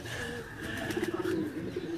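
Pigeons coo on a rooftop loft, soft rolling coos repeating in short bursts, near but gentle over a low steady background hum.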